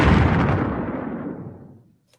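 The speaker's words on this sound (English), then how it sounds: "The ship is pounded by a torpedo blast." A torpedo blast strikes a ship as a radio drama effect: one heavy, rumbling explosion that rolls on and fades over about two seconds, with a faint click after it dies away.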